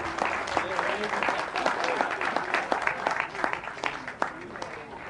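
At a sports journalists' day event, an audience breaks into sustained applause after a comedian's joke, dense and lively clapping with voices and murmurs mixed underneath throughout.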